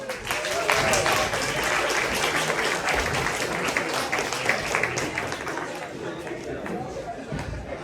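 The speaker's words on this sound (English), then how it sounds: "A big round of applause." An audience at a Burns concert claps for a group of fiddlers, a dense, continuous round of applause mixed with crowd chatter throughout.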